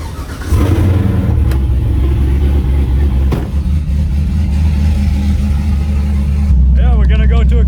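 A modified Firebird's engine rumbles loudly and deeply at close range, a continuous heavy throb with a few sharp bursts, ending as a voice begins to speak over it.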